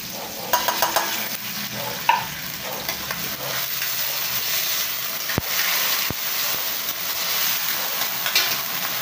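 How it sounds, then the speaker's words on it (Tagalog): Sardines sautéing in a pan give a continuous close sizzle with frequent stirring scrapes and a couple of sharp utensil clicks. "Kapag ginigisa natin adil yan, maglalagay tayo ng sardinas naman tayo, no?"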